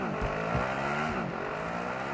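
A motorcycle engine drones steadily in the video game Warzone 2, its pitch sliding up and down as the bike accelerates and eases off, loud and close throughout with no talk.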